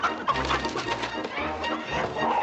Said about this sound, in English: he was catching chickens